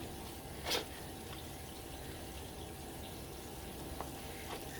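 A soft, continuous hiss of hot tap water pours into a greasy kitchen sink drain, fairly faint and unbroken, with a couple of small knocks in the background.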